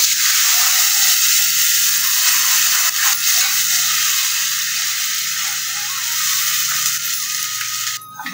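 Tempering spices sizzling in hot oil for village-style dubuk vadi, a loud dense hiss that carries on steadily for several seconds with faint clinks, close and without talk.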